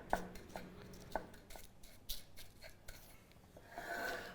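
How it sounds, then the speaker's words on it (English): Spoon pressing graham-style crumb crust into small baking tins: scattered soft scraping and tapping clicks, a few sharper metallic ticks, fairly quiet and close, with no talking. "I'm now going to take the back of my measuring spoon and gently press down those crumbs to compact them in the bottom of each one of my tins"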